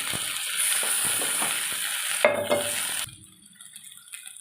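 Water splashed into a pan of frying chilli powder and spices hisses into a loud, steady sizzle with stirring clatter, then drops abruptly to a quiet simmer.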